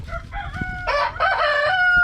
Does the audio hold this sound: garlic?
no